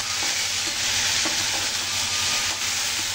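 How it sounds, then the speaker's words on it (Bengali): Potatoes fry in oil with salt, turmeric and chili powder, a dense steady sizzle with faint stirring clicks of a spoon, close and continuous. "পরিমাণ মতো লবণ, হলুদ, লঙ্কার গুঁড়ো দিয়ে এটাকে ভালো করে ভাজা করতে,"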